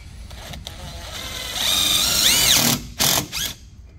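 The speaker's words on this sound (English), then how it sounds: "you should be able to run your self-tappers into the bumper bracket" A power drill drives self-tapping screws into the bumper bracket of an Audi C7 A6/A7 3.0T. The motor whines up in pitch under load and stops, followed by two short ratcheting bursts close by, with no speech.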